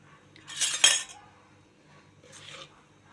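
A spoon clinks against a pot while coriander powder goes into an egg curry, two quiet metallic clinks about two seconds apart, close by with no talking.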